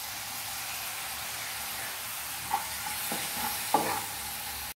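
Soy sauce and tomato sauce stirred into chilli paneer in a hot pan, a steady sizzle with a few distinct scraping strokes of the spoon, close up and without voices.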